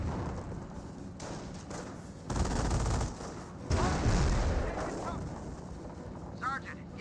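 Battle din from Company of Heroes with bursts of gunfire and explosion booms, dense and loud at moments, mixed with spoken commentary.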